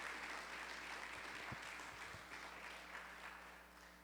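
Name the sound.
applause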